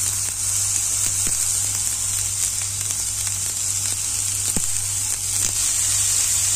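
Clams stir-fry with cherry tomatoes and sliced aromatics in a pan, giving a loud even sizzle with occasional light scrapes and taps of a spatula, and no talking.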